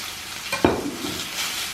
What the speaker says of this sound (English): And now we can go ahead and cool the pan down by adding the steak to it.